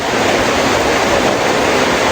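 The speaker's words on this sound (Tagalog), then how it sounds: "napakalakas ng hangin dito" Strong wind on a goat farm roars steadily across the microphone, a loud, constant rushing noise with no break and no voices, ahead of a storm.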